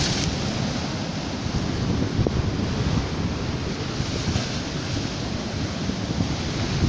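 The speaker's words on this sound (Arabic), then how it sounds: "صوت البحر" Sea waves break on rocks along the Mex shore in Alexandria, a dense, continuous roar of surf with wind buffeting the microphone, loud and close with no voices.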